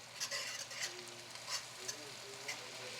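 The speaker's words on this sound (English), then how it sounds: "Stir that all together." Shepherd's pie filling cooking in a pan, stirred with faint spoon scrapes and clicks over a quiet, steady sizzle, recorded close but low in level.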